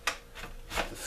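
A knife scrapes skin away from a half-frozen turtle shell, giving three short rasping strokes, close and quiet with no talk.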